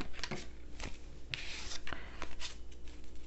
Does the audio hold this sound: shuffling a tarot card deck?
yes